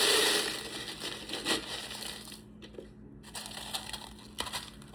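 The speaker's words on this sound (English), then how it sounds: "All right, we're gonna add our ice." Ice being added to a Carolina Fruit Punch loaded tea drink: a brief rattling, crunching clatter at the start, then fainter scattered clinks and settling noises, with no talking.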